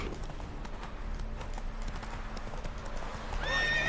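Horse hooves clip-clopping in The Witcher 3 game, a steady run of close hoof beats at a walking pace, with a whinny or horse snort near the end over a low background bed.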